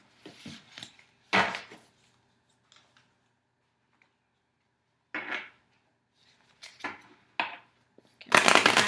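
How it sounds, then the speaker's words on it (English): A deck of tarot cards is shuffled in short papery bursts separated by quiet pauses, ending in a louder riffling flutter, close up. "Gonna go ahead and give this deck one more final shuffle before I fan them out"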